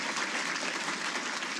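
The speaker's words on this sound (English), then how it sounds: "Please give them a round of applause." An audience at a military Hall of Fame ceremony gives a round of applause for MSC commanders and directors, a continuous, even wash of clapping heard from a short distance.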